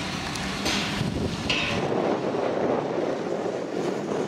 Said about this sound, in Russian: Здесь ветрено, перейдем, где поменьше ветра.